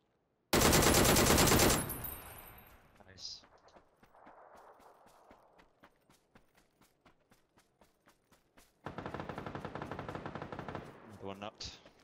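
Rapid automatic gunfire in the PUBG shooter game comes in a loud sustained burst. Scattered single shots and quieter crackle follow, then another long, loud burst near the end.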